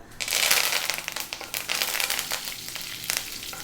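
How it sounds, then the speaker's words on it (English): Curry leaves hit hot oil in a pan for a ground beef and peas keema, bursting into loud, crackling sizzle with sharp spits and pops that continue steadily. "Next up, we're going to drop in our curry leaves, which can sometimes be a bit loud."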